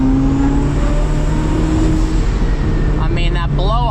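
SSC Tuatara 1750 hp hypercar in manual mode with a steady loud engine drone and road rumble, then near the end a sharp turbo blow-off chirp with fluttering whooshes, heard from inside the cabin.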